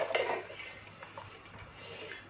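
Metal lid set onto a cooking pot of whole masoor dal, a soft clink and a few faint rattles of cookware in a quiet kitchen.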